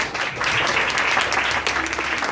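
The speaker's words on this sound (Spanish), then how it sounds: "Aplausos, hermanos." A church congregation applauds steadily and fairly loudly, a dense wash of clapping that holds for the whole moment with a faint murmur of voices underneath.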